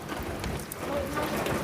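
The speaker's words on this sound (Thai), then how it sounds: "ฝนยังตกอยู่" Steady rain falling outdoors, a continuous dense patter and hiss at an even level with faint low rumbles underneath.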